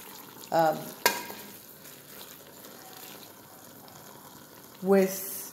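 Ground beef and diced onions cook in a pan with a low, steady sizzle, and there are a couple of sharp clinks near the start. A voice speaks briefly at the beginning and again at the end.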